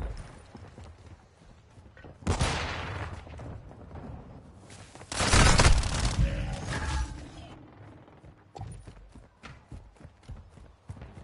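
Video game gunfire: rapid volleys and bursts of shots, with a loud heavy blast in the middle and quick rattling fire toward the end.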